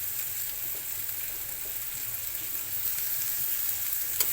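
Small shrimp fry in a pan with turmeric powder, giving a steady, dense sizzle that hisses evenly throughout with no voices over it.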